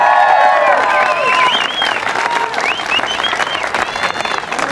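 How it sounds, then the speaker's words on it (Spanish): Spectators at a ballet folklórico exhibition in Puruándiro give the dancers loud, sustained applause, with shrill cheers and whistles from the crowd rising above the clapping throughout. "un aplauso para mis muchachos de Norte Semestre"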